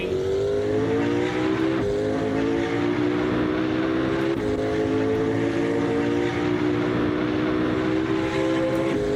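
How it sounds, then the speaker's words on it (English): Hypercar in Assetto Corsa with turbo blow-off valves, its engine and exhaust droning loud and steady with rising, stacked harmonics through repeated upshifts, plus brief whooshing breaks around two and four seconds. "The exhaust is nice. I love the blow-off sound."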